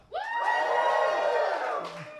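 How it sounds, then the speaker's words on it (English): A comedy show audience bursts into a loud cheer of whoops and shouts, rising quickly, holding for about two seconds and then tapering off. "Give us a cheer if you want to see comedians do well"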